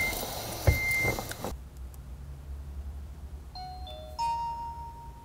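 A dash camera powering up in a car sounds a short series of faint electronic beeps and tones near the end, following a brief burst of broadband noise, with no talk.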